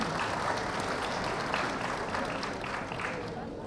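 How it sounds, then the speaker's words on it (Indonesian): An audience claps together at a formal business assembly of KADIN, a continuous, even applause heard from inside the hall at moderate loudness. "Kita beri tepuk tangan Bapak Ibu sekalian"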